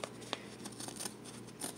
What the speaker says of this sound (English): I'm just going to use my scissors and cut